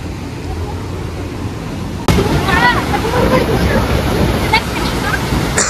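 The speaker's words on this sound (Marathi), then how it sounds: "सोमेश्वर धबधबा." Someshwar waterfall roars as a dense, constant rush of falling water that jumps suddenly louder partway through, with voices faintly audible over the spray.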